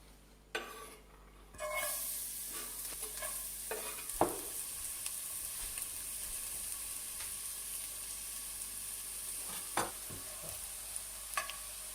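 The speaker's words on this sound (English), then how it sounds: "I'm going to add some garlic to the oil." Garlic sizzles sharply after going into a small amount of hot oil, a steady bright hiss with a few clinks of a utensil against the pan, close and alone.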